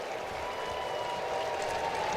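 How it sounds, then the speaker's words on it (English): Crowd applause at Nationals Park, a baseball stadium, during a Major League Baseball game: a steady, sustained round of clapping and cheering from a large crowd, fairly distant and continuous throughout. "Nice round of applause here for Victor Robles, former National,"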